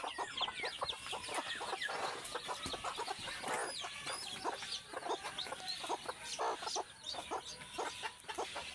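A desi hen on a small poultry farm clucks repeatedly with her six newly hatched chicks, rapid short clucks and peeps scattered throughout at moderate, close range.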